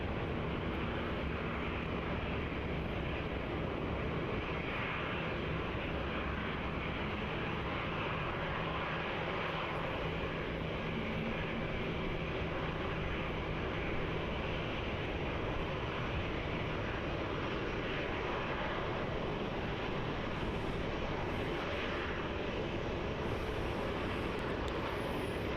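A Vietnam Airlines Airbus A350-900 taxis toward runway 34 at Melbourne Airport, a steady broad jet-engine roar that holds constant and fairly loud from start to finish.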